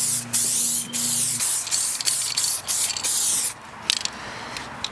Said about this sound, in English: Gonna spray some primer over it so I can see what it's looking like